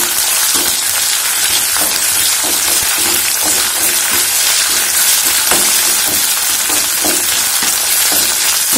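Onions and ginger garlic paste fry steadily in a pan for cabbage curry, a loud continuous sizzle with occasional stirring scrapes and no talk.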